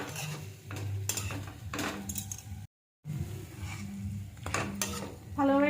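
Metal spoon scrapes and clinks against a pan as mustard paste and spices are stirred into a dish, a series of close rhythmic clanks with a brief gap midway.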